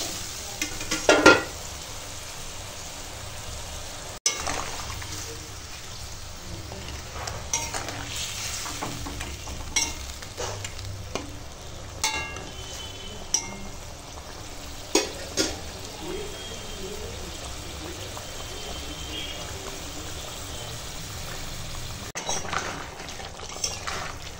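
Spice paste with water and fried rohu fish cooks in a pan, a soft steady sizzle and simmer broken by occasional scraping stirs and light clinks of a utensil, with no talking.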